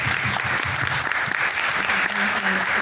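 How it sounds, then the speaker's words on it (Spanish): Dense, continuous audience applause for a filmmaker at a film discussion event, loud and sustained throughout with a faint voice underneath. "Un aplauso muy grande para ti."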